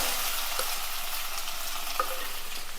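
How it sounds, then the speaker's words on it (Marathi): Chopped boiled potato sautés in a pan for a fasting-day misal, giving a dense even sizzle close up with a couple of light stirring knocks. "आपला बटाटा दोन मिनिटं परतून झालेला आहे"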